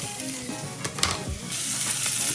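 Sausages sizzle and spit steadily in a hot pan, a close, constant crackle with a few light utensil scrapes and taps.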